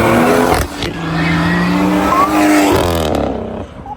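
A BMW drives past on a street among other traffic, engine sound loud and close, with some tire noise and a rising then fading pass over a few seconds.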